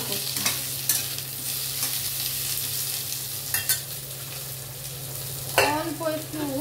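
Potatoes tossed and stirred together in a pan for a doi aloo potol dish, a constant frying hiss broken by a few sharp spatula scrapes and clanks, with no voices.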